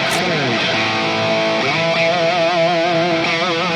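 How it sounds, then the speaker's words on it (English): An electric guitar through a hot-rodded Marshall amp tone plays sustained, heavily distorted notes with a compressed, clipped tone, loud and constant throughout. "it actually adds compression and distortion, kind of clipping the signal"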